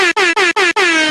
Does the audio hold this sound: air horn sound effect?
yes